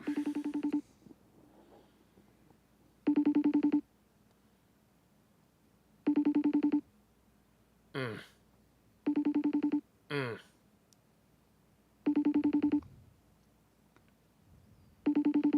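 A repeating electronic FaceTime call ringing tone sounds in regular bursts about every three seconds, interrupted twice by short rising chirps, with no talking.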